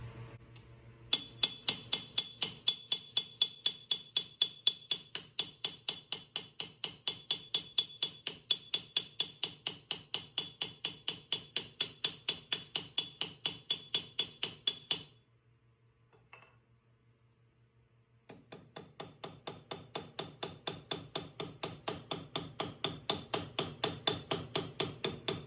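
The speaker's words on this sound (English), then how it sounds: "standard Martin hammer with no leather face on it. I'll try my best to have nice even blows." A standard Martin hammer with no leather face strikes metal in a steady series of sharp, evenly spaced ringing blows, pausing briefly before the even hammering resumes; close and loud, with no talk.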